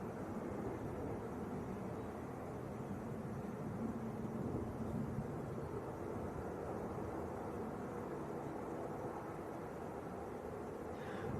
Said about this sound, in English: Ryanair from Faro about to touch down.